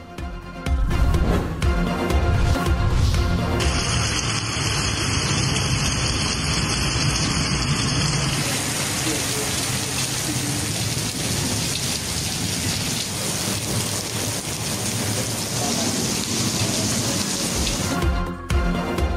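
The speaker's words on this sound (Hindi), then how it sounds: "इस्लामाबाद पिंडी के मुख्तलिफ इलाकों में बादल बरस पड़े। कहीं हल्की कहीं तेज बारिश।" Rain pours down across parts of Islamabad and Rawalpindi, a loud, constant hiss of water on surfaces with low rumbling underneath, continuing unbroken throughout.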